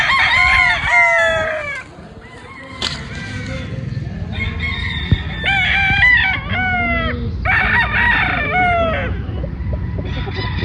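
Several sweater-breed gamefowl roosters crow loudly and repeatedly, with clucking between crows and a low farmyard background underneath.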